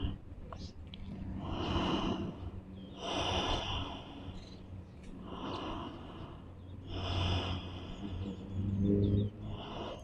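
Slow, deep breaths during a yoga back-flexibility session, about five long airy inhale-exhale cycles, close and soft, with no talking.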